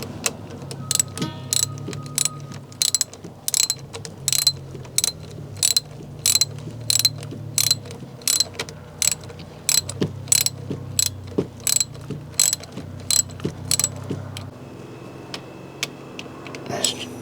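During an oil change on a 2024 Honda PCX125, a ratchet tightens a bolt with a long run of quick, close metallic clicks in bursts, with short pauses between strokes.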